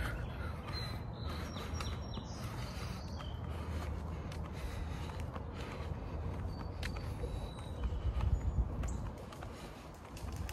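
Crows caw and other birds call faintly in a quiet neighborhood with trees, scattered chirps over a steady outdoor hush with occasional footsteps.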